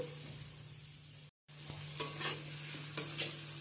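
Chopped onions with a little salt fry in oil in a pan, a fairly quiet sizzle interrupted by a brief gap, with a couple of sharper scrapes or clinks of stirring near the end.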